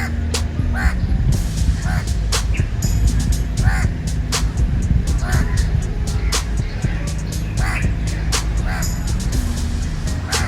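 A raven or crow caws repeatedly on a street in George Town, Penang, its sharp calls cutting through a steady hum of passing traffic and street noise.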